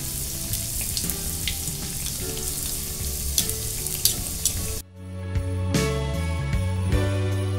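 Urad dal vadas deep-fry in hot oil with a steady bubbling sizzle and scattered crackles, close up, before the sound cuts abruptly to a quieter, thinner frying hiss.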